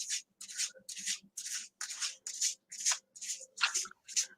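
Tarot cards on thick cardstock are shuffled, giving about ten rhythmic riffling swishes in quick succession with short gaps between them, close and clear with no talking.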